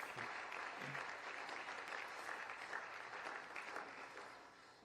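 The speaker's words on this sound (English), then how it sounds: "Start the mumble clap video." Recorded applause played back from a clap video during a talk show, a steady faint wash of many hands clapping together that fades slightly at the close.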